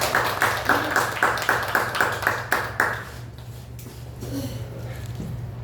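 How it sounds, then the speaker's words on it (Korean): A church congregation gives a short round of thankful clapping for the visiting pastor, a series of sharp, evenly spaced claps over a steady low hum that thins out and fades after about three seconds. "감사의 박수 한번"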